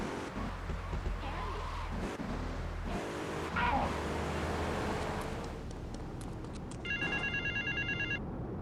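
In GTA 3, a payphone gives a short burst of electronic ringing near the end, above a rumbling car engine and street noise.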